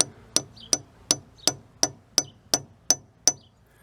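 Nine light, evenly spaced hammer taps ring out sharply with a slight metallic ping as an easy out is driven into a stuck bolt on a motorbike, close and clear with little else around.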